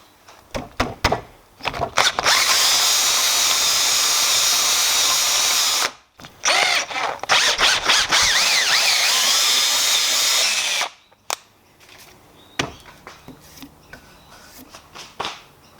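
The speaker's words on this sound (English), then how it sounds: "it's a bit of a guessing game on knowing how far to ream these DELRIN bores out to fit your sleeve" A power drill reams out the bores of Delrin suspension bushes for a time attack turbo car build, running in two long, loud, close bursts of steady whine separated by a brief pause, then falling quiet.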